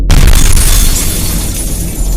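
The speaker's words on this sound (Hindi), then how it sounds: "तभी एक तेज धमाके जैसी आवाज आई।" A loud explosion-like bang in a horror story, as a truck smashes through a roadside railing: a sudden heavy boom with a crashing, shattering burst that rumbles on at high volume for a couple of seconds.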